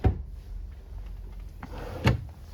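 A ball-bearing drawer in a toy hauler RV slides along its runners with a soft rolling hiss, then shuts with a firm thud, close by and without talk.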